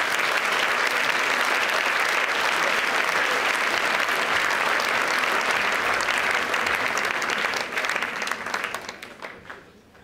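Concert audience at an annual concert by a community music association in Mechtersheim applauds steadily in a dense, sustained wash of clapping that thins out and fades toward the end.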